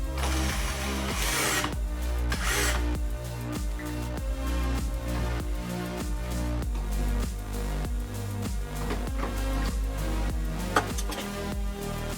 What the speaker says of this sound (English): Of course my drill isn't the strongest one, but usually it does the job, but not with this wall.